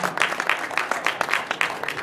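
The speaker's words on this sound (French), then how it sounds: "je demanderai d'applaudir parce que il a bien pris" An audience applauds at a red-carpet event, a short burst of dense, steady clapping heard up close, without any talk over it.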